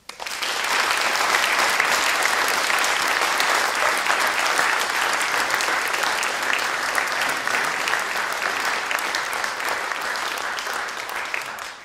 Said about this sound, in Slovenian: vas vse naprošam za en aplavz.